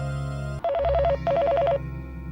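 A telephone rings with two short warbling bursts of electronic trilling, close and clear over a steady low room hum, with no talking.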